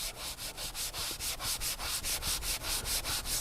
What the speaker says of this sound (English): you could take the sanding block here and let's just mist a little bit of the cleaner onto the pad